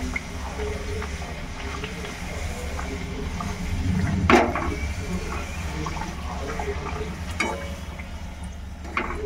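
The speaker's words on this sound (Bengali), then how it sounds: "একটু সময় নিয়ে ভাজতে হবে, একটু মোটা তো, নাহলে কাঁচা কাঁচা থেকে যাবে।" Chicken-filled soruchakli fry in a pan of oil with a steady low bubbling and sizzle. A single brief clatter rises near the middle.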